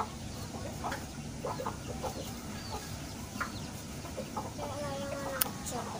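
Chickens cluck softly and intermittently near a trap in a rural setting, the scattered calls fairly faint over steady background noise.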